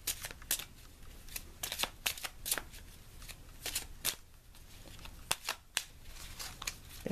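A deck of tarot and Lenormand cards is shuffled by hand close up, a steady run of crisp riffling flicks and soft slaps repeating for several seconds with no voice over it.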